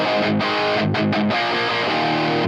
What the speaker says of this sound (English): here's our drive pedal in now.